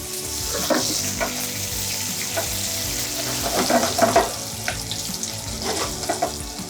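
Apples frying in bubbling caramel in a pan, with close sizzling and crackling, and scraping and stirring bursts as the fruit is turned and basted; no voices.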